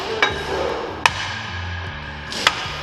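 A hammer strikes boots three times, sharp isolated knocks spaced about a second apart and fairly close, over a steady low background hum.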